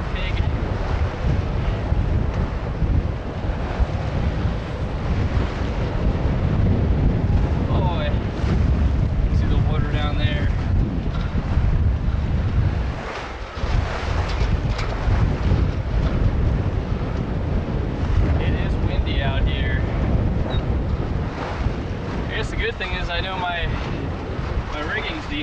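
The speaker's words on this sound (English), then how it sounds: "Yep, that's a nice gust." Strong wind gusts buffeting a sailboat on Lake Lanier, a constant loud roar of wind against the microphone with water sloshing beneath and brief muffled voices.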